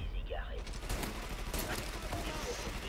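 Shotgun blasts and heavy gunfire ring out in a Mafia 3 shootout, dense repeated bangs layered over continuous game noise, with someone talking over them.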